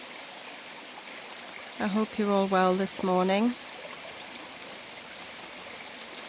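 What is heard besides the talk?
river flowing on a rainy morning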